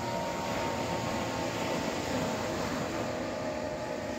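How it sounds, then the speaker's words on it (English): An airplane flies overhead outdoors, a steady broad engine roar that holds constant and fairly distant with no talk. "Oh, look at that nice plane."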